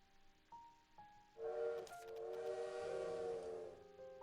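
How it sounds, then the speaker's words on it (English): A train horn sounds close by. Two short toots are followed by a long, loud blast that holds to the end, over a low rumble of rolling stock. "Wait, isn't that indeed the sound of the train?"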